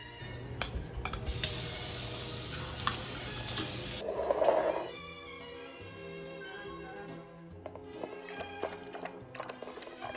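Water runs from a tap into a bowl, a loud, steady rushing stream for about three seconds that then cuts off, followed by quieter clinks and light knocks nearby.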